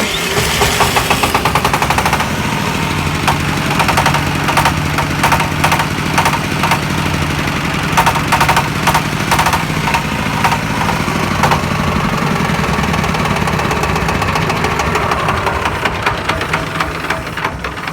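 The diesel engine of a QT4-30 block machine chugs loudly and continuously for the whole stretch, a rapid, rattling, knocking beat close by with no talking.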